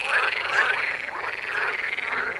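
A frog croaks steadily for the whole stretch, a dense, busy chorus of rasping calls with no voices over it.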